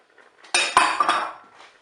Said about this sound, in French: on mélange les ingrédients